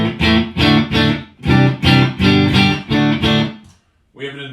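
A Fender Stratocaster electric guitar plays through a Mesa amp and a Boss DD-2 digital delay, hitting a run of loud, rhythmic chord bursts with short gaps, then a brief silence before one last chord.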